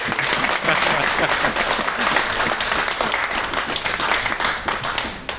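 Vigorous, continuous clapping from a gathered crowd at a state award ceremony, close and loud, holding steady for several seconds with no talk over it.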